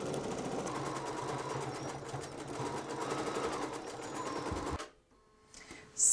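A Bernina 820 sewing machine stitches continuously at a steady hum while free-motion quilting with the BSR foot, then stops abruptly near the end, leaving quiet.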